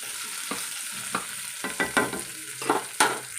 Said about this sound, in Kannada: ಈಗ ನಮ್ಮದು ಈರುಳ್ಳಿ ಗೋಲ್ಡನ್ ಬ್ರೌನ್ ಆಗಿದೆ